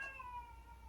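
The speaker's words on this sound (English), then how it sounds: "I warned you not to meow" Cat giving a single short meow, faint and brief, a thin falling tone fading quickly against a quiet background.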